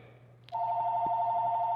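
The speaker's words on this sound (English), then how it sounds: "Oh, phone is ringing." A phone starts ringing with a sharp click, then holds a steady, loud electronic tone that continues without a break, with a faint low hum underneath.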